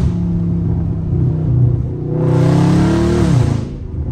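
A Dodge Scat Pack's V8 engine idles with a deep loud rumble, then is revved hard for about a second and a half, rising sharply before dropping back to a throaty idle, close to the car.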